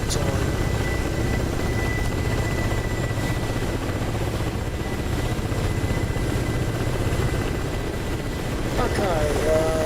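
Helicopter rotor blades in the DCS flight simulator game make a continuous, rhythmic thrum and whine that holds steady throughout, with faint voices in the background.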